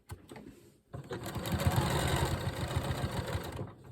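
Sewing machine stitching a beginner's easy nine-patch quilt block, with a brief handling noise, a short pause, then a steady close, loud motor whir and rapid needle chatter running alone to the end.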